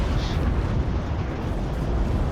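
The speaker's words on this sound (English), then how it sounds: "rockets coming in against the Ukraina, Hellfire going in against the T55 AM1" Hellfire missiles and rockets detonate against a T-55 AM1 tank in the video game Warno, a dense, continuous rumbling roar of explosions that stays loud and unbroken throughout, with no speech.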